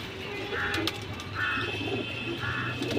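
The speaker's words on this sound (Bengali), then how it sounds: "কবুতর খুবই সুন্দর মাশাল্লাহ" Pigeons coo softly in short bursts, three or four low calls spaced across a steady background hum, fairly close, with faint voices and a few sharp clicks mixed in.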